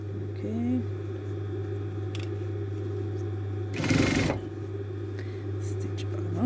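A sewing machine stitches around a Christmas stocking, its motor giving a steady close hum with a brief louder burst partway through.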